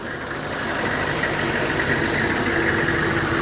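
A Detroit 6.5 diesel in a truck idles cold soon after startup, running loud with a steady, rough clatter close to the microphone. No one speaks.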